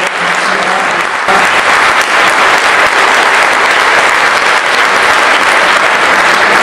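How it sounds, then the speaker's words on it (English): An audience applauds a youth team's Rama Lila performance with a big, loud round of clapping that swells in after a brief lull and holds steady and dense, with crowd murmur beneath. "Big round of applause to this entire team here"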